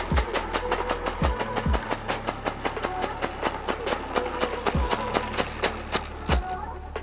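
A compressed-air powered four-stroke engine on an RC car chugs steadily with rapid, regular popping exhaust pulses over a low hum, close and moderately loud, with a few deeper thumps.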